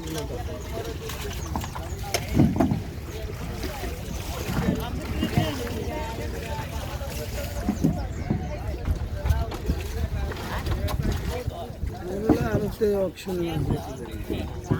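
A motorised fishing boat travels along a river, its engine drone steady and continuous beneath wind and water noise, while people talk throughout.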